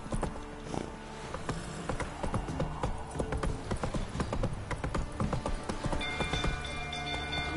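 Roach the horse galloping in a video game, quick rhythmic hoofbeats clopping continuously and fairly close, with faint ambient sound beneath.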